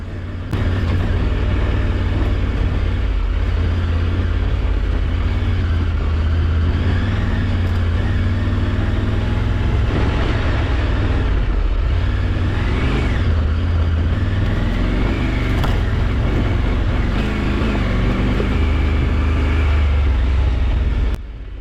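A Triumph Tiger 900 Rally Pro motorcycle rides a bumpy, rocky trail, its engine drone loud and constant with rumbling low end and shifting pitch as it climbs.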